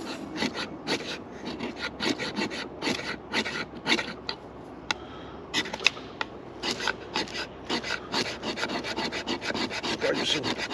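Repeated rasping scrapes against a ferrocerium rod while preparing a fire, a steady run of close, dense strokes continuing throughout with no talking.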